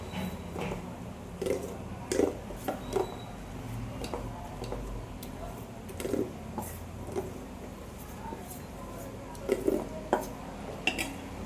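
A spoon stirs rava dhokla batter mixed with Eno in a bowl, producing light intermittent scrapes and taps against the sides with quiet gaps between strokes and no talking.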